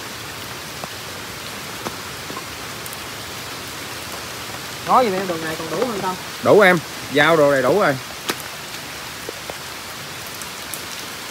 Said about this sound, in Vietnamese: Ồ, mưa to lắm luôn cả nhà ơi.